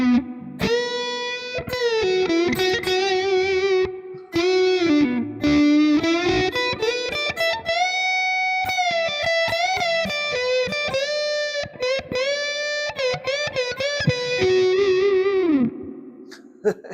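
An electric guitar played through a British-style EL34 amp model on a modeller, with thick, fuzzy distorted tone and chorus-like shimmer on sustained, bending notes and chords. It is loud, close and continuous, with no talking.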